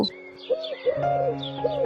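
A dove coos in a short series of soft, low, rounded calls with faint higher chirps around them, heard close and alone.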